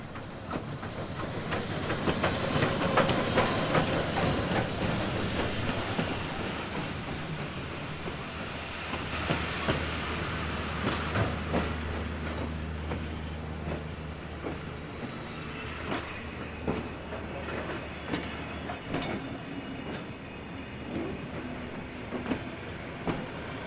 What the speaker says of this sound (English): watch the train coming over the hill and around the corner and pull up perfectly to the station platform